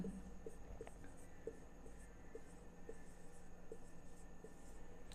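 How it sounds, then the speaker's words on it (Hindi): Pen or marker strokes as numbers are written by hand for a class 6 maths lesson, a faint series of evenly spaced scratchy taps over a low steady room hum, with no talking. "लो मैं लिख दे रहा हूँ"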